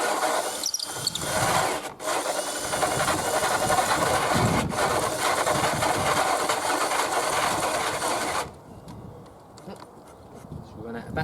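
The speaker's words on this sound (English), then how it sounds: "Just got to be very patient when you're drilling." A cordless drill bores slowly through the wood of a hockey stick being made into a cup holder, giving a steady grinding, rasping whir that stops near the end, with a voice speaking over it.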